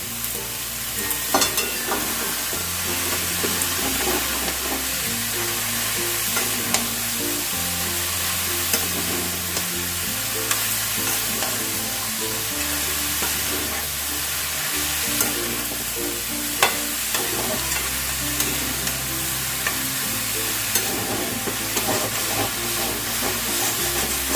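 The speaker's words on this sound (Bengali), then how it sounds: "প্রথমে আমি অর্ধেক বাঁধাকপিটা দিয়ে একটু নেড়ে নেবো" Cabbage is fried in a pan with fish head, giving a constant loud sizzle and hiss with scraping stirs and occasional clanks of the utensil against the pan.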